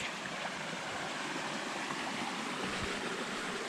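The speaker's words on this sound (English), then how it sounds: "We got a little creek." Steady rushing water of a small creek flows without pause, a broad even hiss that carries on with no talking over it.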